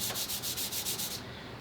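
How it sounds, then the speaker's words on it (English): Hand sanding a Ruger 44 Carbine wood stock with paper held on the fingers: about seven quick, even rasping strokes close up, then the scrubbing stops. "I like to do my finish sanding, or my finishing of each grit,"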